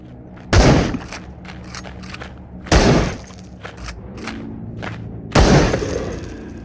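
Three heavy shotgun slug blasts boom out in the video game Into the Radius, each a sharp loud crack with a decaying tail, spaced a couple of seconds apart amid faint clatter in between.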